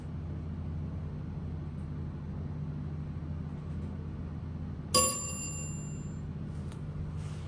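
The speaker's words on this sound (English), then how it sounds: "Indicator's completely burned out, but I absolutely love that chime." A Dover traditional elevator's chime sounds once, a bright ringing tone with lingering overtones, over a steady low mechanical hum from the running car.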